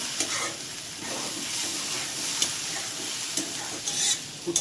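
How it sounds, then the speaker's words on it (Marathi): Potato sautéed in a pan with salt, hot red chilli and Kashmiri red chilli gives a continuous soft sizzle. Small scraping and stirring knocks from a utensil sound close by throughout, and no one speaks. "त्यामध्ये चवीनुसार मीठ, तिखटवाली लाल मिरची आणि काश्मीरी लाल मिरची परतून घेऊ आपण."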